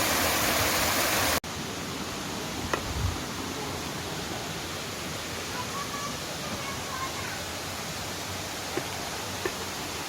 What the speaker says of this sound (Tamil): இப்போ நல்லா தண்ணி வருது